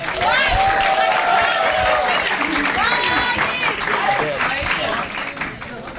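Seminar audience at a public policy event applauding, steady crowd clapping with voices and cheers layered over it throughout.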